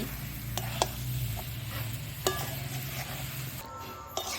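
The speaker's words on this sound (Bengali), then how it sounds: "এবারে সেদ্ধ করে রাখা এঁচোড়টা দিয়ে দেবো ওর মধ্যে দিয়ে ভালো করে কষাতে হবে" Boiled jackfruit being stir-fried in a pan, with a low continuous sizzle, a few sharp scraping knocks of a spatula, and clicks of the cookware close by.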